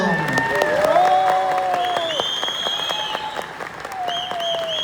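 A seated audience at a motivational talk claps together in a steady, moderately loud ripple, while a voice talks over the applause and tonal sounds drift through the background.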